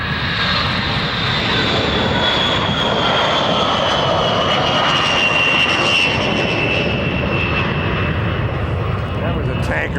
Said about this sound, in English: That was a tanker taking off.